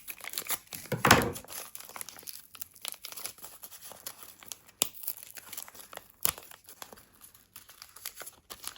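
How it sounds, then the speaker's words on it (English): Foil trading card packets being cut open with scissors, giving crinkly plastic rustles and a sharp tearing burst early, then scattered snips and crinkles at close range with no talking. "These packets are quite hard to open with scissors."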